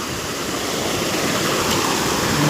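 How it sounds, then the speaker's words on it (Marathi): Water rushing steadily through an open channel beside a village paddy field, a loud, continuous broadband roar like a small stream or spillway, close by and alone without voices. "सगळं पाणी इथून जातं"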